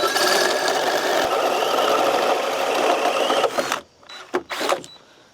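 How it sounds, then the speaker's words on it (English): A hole saw on a power drill bores into deck wood with a steady, loud, buzzing grind lasting about three and a half seconds, then cuts off, followed by a few short knocks and rattles. "So I'm gonna start with the hole saw and core out at the very bottom"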